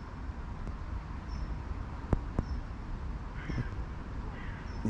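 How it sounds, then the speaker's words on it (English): Faint bird calls sound from far off in Leasowes Park, Halesowen, a few scattered cries, over a steady outdoor background hum. "even birds are far back over there as well"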